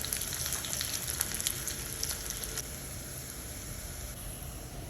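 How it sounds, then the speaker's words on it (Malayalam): Chopped shallots frying in ghee for a tempering, a soft, steady crackling sizzle with faint pops, fairly quiet and unbroken, no voices. "ഇനി നമ്മൾ താളിക്കാനായിട്ട് 1 ടേബിൾ സ്പൂൺ നെയ്യ്, അതിലേക്ക് ചെറിയുള്ളി ഒരു 4-5 എണ്ണം നുറുക്കിയത് ഇടുക. അത് ചോക്കണ വരെ വറുക്കുക."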